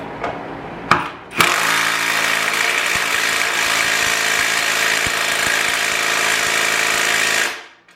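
A WAKYME 21V 1/2 inch cordless impact wrench driving a bolt at a 250 foot-pound setting, a few short trigger blips and then a loud sustained hammering rattle lasting about six seconds before cutting off, close up.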